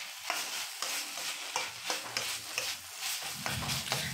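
Pork binagoongan with pineapple stirred in a pan: a quiet run of scraping spatula strokes in an uneven rhythm over a soft cooking hiss, close by, with no talking.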